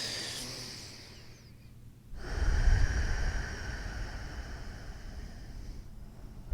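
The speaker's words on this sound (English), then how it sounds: "We'll take a few breaths here in and out through the nose" Slow yoga breathing through the nose, heard close and soft: a gentle airy breath tapers off, a short pause follows, then a longer, fuller breath rushes in and out with no talking.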